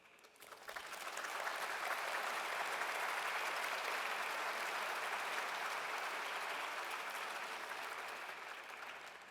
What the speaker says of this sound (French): et vous avez raison de l'applaudir